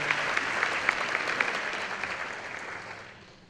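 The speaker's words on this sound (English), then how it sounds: "give them a huge round of applause" An audience at a women's leadership luncheon applauds a panel, with sustained dense clapping and a few sharper claps, gradually fading out toward the end.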